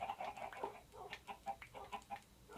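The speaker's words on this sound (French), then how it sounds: "les poules, là, je suis rendu avec plein de poules" Several chickens cluck in Minecraft, a string of short, evenly spaced clucks at moderate loudness with no talk over them.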